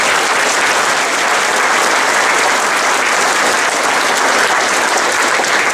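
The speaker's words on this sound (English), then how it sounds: "a quick round of applause for Zach Pressel" A banquet audience at a county sports hall of fame dinner applauds a local state champion, steady and dense, close clapping filling the room for about six seconds without letup.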